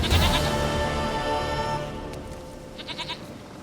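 A goat in The Witcher 3 lets out a loud, wavering bleat, then the call fades and a few soft, short bleats follow, with no talk over it.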